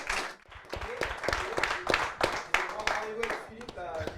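Applause from a gathered audience at an Imprimerie Goubault event, crowd clapping mixed with loud nearby voices talking over it throughout.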